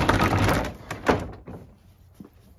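A door is opened with a burst of rustling and a couple of dull wooden thunks, loud and close at first, then the scene settles into near quiet with one faint knock at the end.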